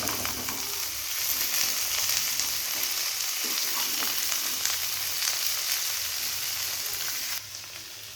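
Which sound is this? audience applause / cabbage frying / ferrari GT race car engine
cabbage frying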